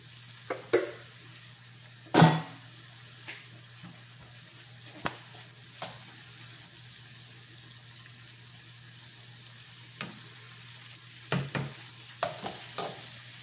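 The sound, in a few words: oil sizzling while frying pork curry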